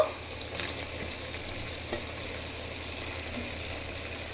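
Tomato sautéing in a pan of spiced mutton biryani base, a steady soft sizzle with faint scraping of stirring, fairly even and close, no voices.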